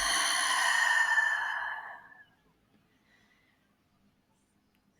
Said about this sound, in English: Exhale, releasing.